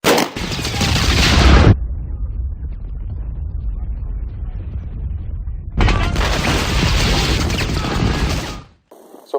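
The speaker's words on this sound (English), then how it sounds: "we're going to fire a few more rounds, and I'm hoping that by doing it from different distances, that can give you a little bit better idea of how well it suppresses" Suppressed gunshots fired at a distance to show how well a silencer quiets them, heard as two long loud bursts of sharp reports separated by a quieter stretch, with no talking.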